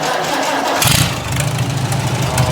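A Super A tractor engine with the choke pulled cranks briefly, then catches and settles into a loud, close, rough running rumble.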